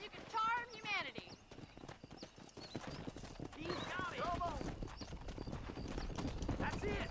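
Horse hooves clip-clop in a steady trotting rhythm while herding cows in the Red Dead Redemption video game, with a horse whinny near the start and someone talking over much of it.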